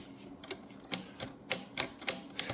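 A Wanderer Klein Continental typewriter mechanism being worked, giving a series of about seven crisp mechanical clacks at uneven intervals, close and fairly quiet, with no talking.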